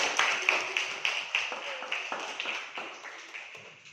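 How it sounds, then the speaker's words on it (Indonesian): A class claps for a pupil named Enzi, a short run of scattered hand claps repeating at a steady pace and gradually tapering off. "Beri aplaus untuk Enzi"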